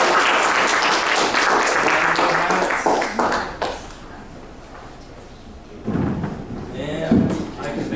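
Applause from parents at a youth soccer parent meeting, a broad wash of clapping that fades after a few seconds, followed by quieter room noise and a voice speaking.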